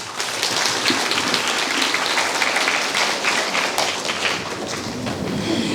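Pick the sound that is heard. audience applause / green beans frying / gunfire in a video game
audience applause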